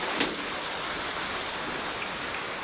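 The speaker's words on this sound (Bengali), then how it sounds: "কি পরিমাণ বৃষ্টি হয়েছে" Heavy rain falls steadily and loudly, a dense, even hiss of drops on surfaces with no voices, continuous throughout.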